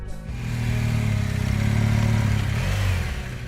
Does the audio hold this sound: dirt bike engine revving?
yes